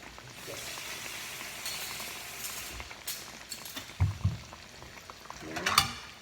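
Breaded pork chops frying in a pan, a continuous bubbling sizzle with intermittent louder pops, spatters and clinks of a utensil, growing busier toward the end.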